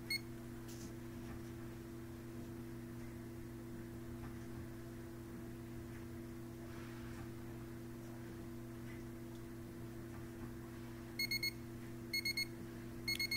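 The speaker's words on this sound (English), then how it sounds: "And there's the alarm." Temperature alarm on a tankless water heater beeping in short, sharp bursts of rapid electronic pips, three quick clusters near the end over a steady low electrical hum, fairly close.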